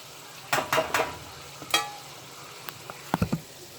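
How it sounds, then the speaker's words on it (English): Tofu frying in olive oil in a skillet, a low steady sizzle punctuated by several sharp clacks and scrapes of a utensil against the pan. "You want to cook it in a skillet that's going to fry it good. I use olive oil."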